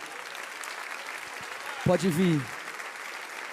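A church congregation at a worship service applauds in a steady, fairly distant wash of clapping, while someone briefly speaks over it.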